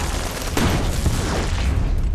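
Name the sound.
gunfire and grenade explosion in a film scene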